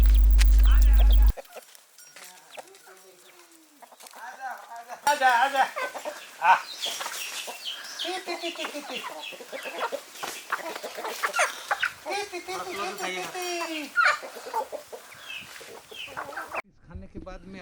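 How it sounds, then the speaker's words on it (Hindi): Chickens clucking on a village farm in a forest area of Gumla, a yard shared with goats, heard as a lively run of close clucks and calls with people talking over them. "इनकी मुर्गियों को देखें,"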